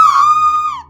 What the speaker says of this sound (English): Unfortunately, her scream hadn't aged well.